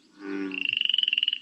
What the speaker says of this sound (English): Frogs make different sounds.